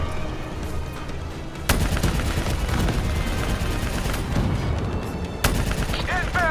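Dense action-movie firefight with sustained machine-gun bursts and rapid gunshots, loud and close, with sharp volleys hitting harder about a third of the way in and again near the end, over a thick rumbling battle din.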